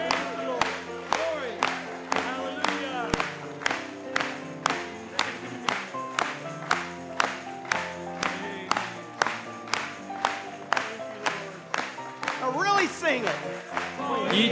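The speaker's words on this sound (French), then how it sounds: "Acclamons pour lui encore." A church congregation claps in a steady, regular rhythm along with singing and music, loud and close, the beat continuing for the full stretch.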